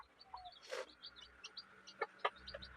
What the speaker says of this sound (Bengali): এদিকে দেখো আমার মুরগি